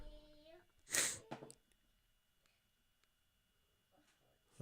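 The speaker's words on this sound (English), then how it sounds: "I'm about to sneeze." A single loud, close sneeze from someone suffering a cold or flu bursts out about a second in, then a few softer breaths and small sounds trail off into near quiet.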